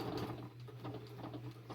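Sewing machine backstitching along the short end of a fabric pin cushion, a steady fast mechanical whirr with rhythmic needle clatter, close and alone.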